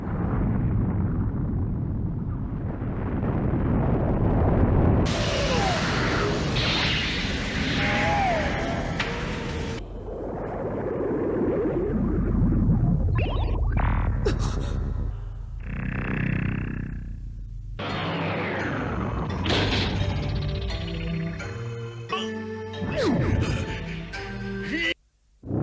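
Old anime sound effects for explosions and technology play as a loud, busy montage of booms, bursts, crackles and electronic bleeps and whirs, with sudden cuts between them.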